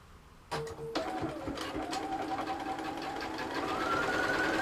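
A sewing machine stitches a quilt block in a steady, continuous run after a brief start-stop, its motor hum and needle chatter holding loud and close for several seconds with no talk over it.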